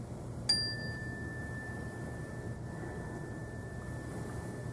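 A single chime is struck in a classroom to begin a breathing break. It gives a sharp, bright strike and then a long, pure tone that slowly fades over a quiet room hum.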